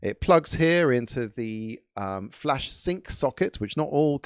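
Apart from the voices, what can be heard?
No everyday noises stand out.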